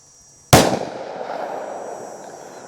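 A single loud, close gunshot from a 2-inch-barrel 605 revolver fired during an ammunition test, a sharp crack followed by a short echoing decay, with no talk.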